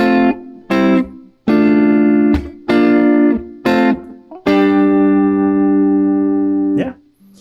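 Electric guitar playing a riff, a series of loud strummed chord stabs in a choppy rhythm, about six hits with the last one ringing out long, alone without talk.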